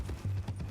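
Horse hooves clip-clop in Red Dead Redemption 2, a few soft, quick thuds in a brief rhythmic burst, quiet against a low hum.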